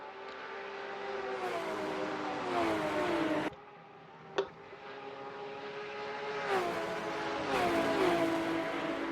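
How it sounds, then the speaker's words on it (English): Porsche Cayman GT4 race cars at Sonoma Raceway, heard from outside, rise in engine pitch as they accelerate and shift, a sharp drop marking one pass, before another car builds and revs again, moderately distant and alone. "Oh, these cars sound so sick from the exterior."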